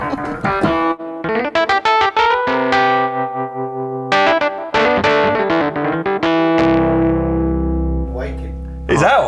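Distorted Rhodes-style electric piano from a Yamaha MODX M synthesizer, loud and close, playing a run of sharp, barking chords and note clusters that ring out and sustain, ending with a low held chord and a final stab.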